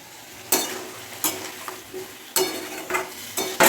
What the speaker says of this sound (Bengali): মশলাটা দিয়ে আবার ভালো করে কষিয়ে নেবো